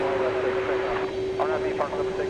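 A jet airliner at DFW Airport at night gives a steady, loud engine whine and rumble, with a voice speaking over it partway through.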